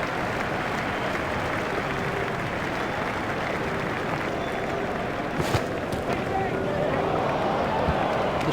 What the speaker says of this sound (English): There's a lively crowd inside the stadium, which will create an excellent atmosphere